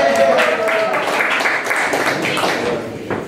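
An audience at a morning startup-community meetup clapping for a coffee sponsor, a full continuous round of applause with a speaker's voice trailing over the start.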